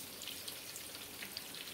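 Quiet, steady sizzling and crackling of Chinese eggplant frying in oil, with small pops scattered throughout and no voices.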